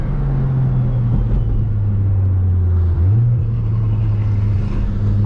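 A Nissan GT-R on launch control holds a loud, steady engine drone that steps up in pitch partway through as it accelerates, heard from inside the car with no talking.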